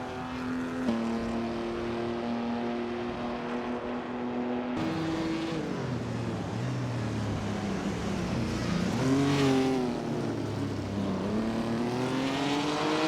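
Vintage street cars race in a video game at the Adelaide No Chicane track near the end of lap 51, their engine whines overlapping and shifting pitch continuously at moderate loudness.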